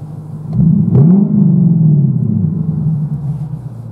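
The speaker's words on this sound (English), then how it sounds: "I'm not sure if you guys can hear that exhaust note in the background, but the car sounds lovely" A 2018 Lexus LC 500 with a very loud aftermarket exhaust rumbles deep and steady in the background, briefly swelling with a rev before settling back to a low idle drone.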